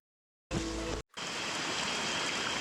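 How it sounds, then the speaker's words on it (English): Heavy rain during a trek crossing the Congo, a loud, dense roar of falling water that starts abruptly, cuts out for a moment, then resumes steadily. "luckily it started really raining a lot"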